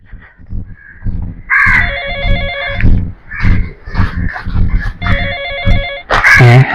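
A phone's ringtone sounds for an incoming call, loud and close, in two melodic ringing bursts separated by a short pause, with other household noises between them.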